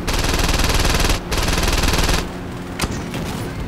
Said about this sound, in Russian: Не, ну ты смотри, я стреляю прям по нему